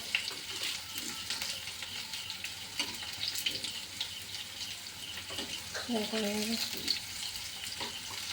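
Food sizzles softly in a pan on a home stove, a low steady frying hiss with light stirring, and a voice murmurs faintly in the background.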